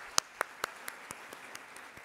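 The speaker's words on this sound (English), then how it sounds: "Please join me in thanking them all for their generosity with another round of applause." Audience applause at an anniversary gala dinner, reduced to a few faint, evenly spaced single claps that fade as they go, with no talking.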